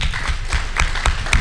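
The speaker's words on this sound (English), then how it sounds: "Let's give her a round of applause." Audience applause at a goals conference in Pasadena, a steady wash of many hands clapping at moderate distance, with scattered sharper claps standing out in the crowd.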